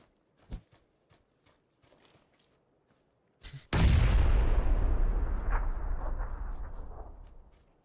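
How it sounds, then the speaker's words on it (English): A grenade goes off in PUBG: a sharp blast after faint scattered clicks, followed by a long, loud rumbling roar that slowly fades over several seconds. "I'm just gonna chuck an uninformed grenade in this general direction."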